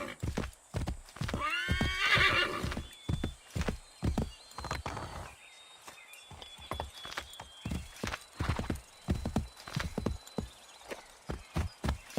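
A horse in Assassin's Creed III whinnies loudly near the start, then its hooves clip-clop in a steady walking rhythm for the rest of the clip, close and clear with no talking.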